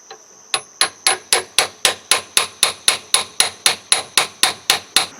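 A steel guard is hammered onto a leaf spring Bowie knife: about sixteen sharp, close metallic strikes in a steady, even rhythm after one lighter tap, with no talking.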